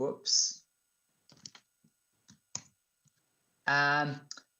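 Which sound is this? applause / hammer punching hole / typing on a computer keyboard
typing on a computer keyboard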